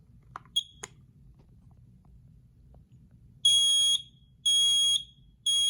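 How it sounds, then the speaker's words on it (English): A Kidde battery-operated micro profile smoke alarm from 2024 under test sounds three loud, piercing, evenly spaced shrill beeps after a few faint chirps and clicks against a quiet low hum. "battery operated micro profile smoke alarm"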